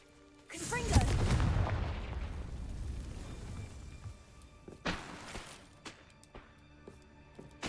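The Confringo fire spell bursts in Hogwarts Legacy, a loud close explosive blast that crackles and rumbles for a few seconds before a second, fainter burst and scattered small pops.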